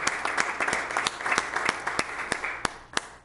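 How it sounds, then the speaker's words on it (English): Applause from attendees at an education advisory board meeting, a steady wash of clapping with several sharp, distinct individual claps standing out, fairly close and loud. "I think we deserve to give her a round of applause in her absence as well."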